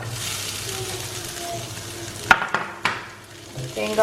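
Urad dal roasting in a hot pan with asafoetida for kara pidi kolukattai, a soft continuous sizzle broken by a few sharp clinks and scrapes of a spoon against the pan.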